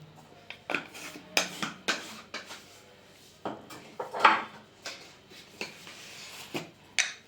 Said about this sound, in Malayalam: ബൗൾ ബൗളിലേക്ക് നമ്മൾ ഇടുന്നത് ഒരു സ്പൂൺ അരിപ്പൊടി ഇടുക.